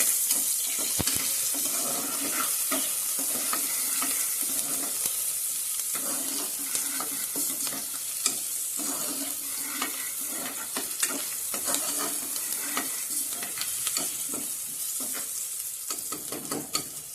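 Onions sizzle and fry in a pan for a village Malvani chicken dish, a steady crackling hiss with occasional stirring scrapes throughout, no talk.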